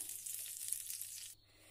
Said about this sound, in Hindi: अब हम इसमें तड़का डाल लेते हैं